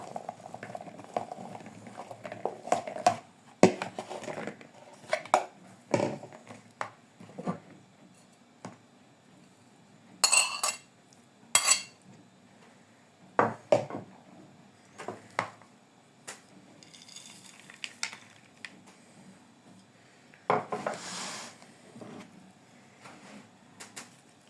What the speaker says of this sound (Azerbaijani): Bu cür bütün doğradığımız ərzaqları qatıb bir-birinə yaxşı qarışdırırıq